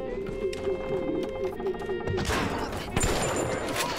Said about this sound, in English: I'm using a shotgun for like something so far away